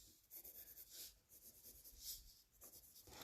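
Scissors snip through paper for a rounded paper box in a quiet close-up of papercraft, a series of soft crisp cuts and rustles with no talking.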